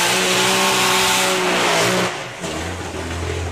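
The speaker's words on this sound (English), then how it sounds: "3-cylinder supercharged nitromethane machine." Three-cylinder supercharged nitromethane drag bike at a drag racing event, a loud harsh roar at close range that drops off abruptly after two seconds and then settles into a lower, steady drone.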